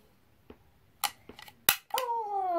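A toy-like gun fired at a knot, several sharp snappy cracks spaced irregularly, the last followed by a ringing, descending tone; close and fairly quiet overall.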